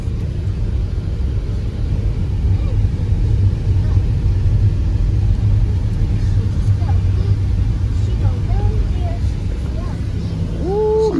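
A car drives slowly through light snow with a steady low engine and tyre rumble, sliding slightly on the road, while a person talks over the continuous drone.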